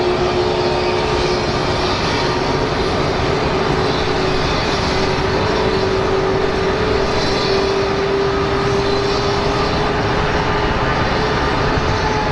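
An American Airlines jet arriving at Phoenix Sky Harbor airport, a loud, steady engine roar with a sustained tonal whine that fills the whole span without a break.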